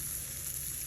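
Chicken pieces, lightly coated, sizzle steadily in a hot grill pan, a close continuous crackling hiss with no talk over it.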